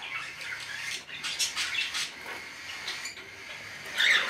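Pet cockatiels, a white-face male and a pearl cinnamon female, squawk and chatter in shrill repeated calls at moderate distance, with no talking over them.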